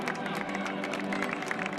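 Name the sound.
stadium crowd applause for Carlo Ancelotti and Real Madrid players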